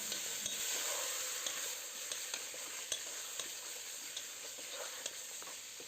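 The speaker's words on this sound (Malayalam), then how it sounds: "മാരിനേറ്റ് ചെയ്ത് വെച്ച ചിക്കൻ ഇട്ട് കൊടുത്ത് ഒന്ന് നന്നായിട്ടൊന്ന് മിക്സാക്കി ഹൈ ഫ്ലെയിമിലിട്ട് തന്നെ നല്ല കളർ ചേഞ്ച് ആകുന്ന വരെ ഒന്ന് മിക്സാക്കി എടുക്കണം" Marinated chicken fries over a high flame in hot oil with curry leaves, giving a steady bright sizzle broken by scattered clicks and scrapes as it is stirred, close up and without talking.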